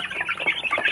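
BPR hens on a small poultry farm cluck in a quick, close run of short, clipped calls, with no voices over them.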